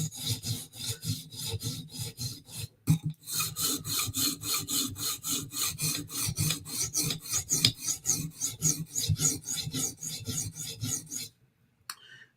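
A knife blade drawn repeatedly across a sharpening stone on a guide system, rhythmic raspy strokes in a steady back-and-forth series, close and clear, stopping near the end.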